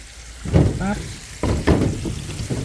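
Large chicken drumsticks deep-frying in oil, a loud near bubbling sizzle broken by bursts of louder spitting and some handling clatter over about three seconds.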